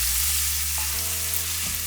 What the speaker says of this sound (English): I'm gonna add some chopped garlic